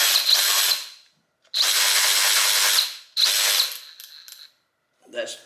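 A cordless power tool, torque rated up to 40 foot-pounds and fitted with a 4 amp-hour battery, whirs loudly with its trigger locked in three long bursts separated by short pauses, then a brief faint rattle.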